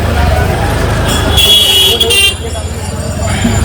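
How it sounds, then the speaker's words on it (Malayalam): Busy street traffic near Manikarnika Ghat with car horns tooting, including a loud sustained honk midway, over engine rumble and general roadway noise. "ഇവിടുത്തെ ഹോണടി ഒരു വല്ലാത്ത ഒരു ഹോണടിയാണ്."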